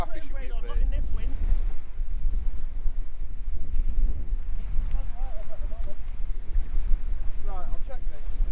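Strong wind gusts buffet the microphone on a beach along the Humber during sea fishing, a constant roaring rumble with faint whistling tones and people talking now and then.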